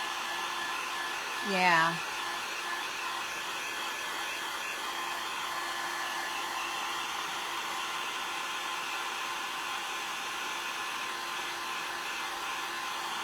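A hair dryer blows steadily at close range to dry paint on a craft project, a constant whooshing hum that runs the entire time, with one brief spoken word near the start.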